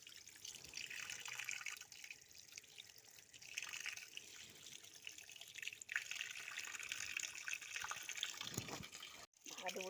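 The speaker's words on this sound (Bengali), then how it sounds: "মাছগুলো ভালো করে ধুয়ে নেব" Tap water runs steadily at an outdoor washing spot while fish are rinsed, a continuous soft rushing with occasional splashes and a brief cut near the end. A voice talks faintly underneath.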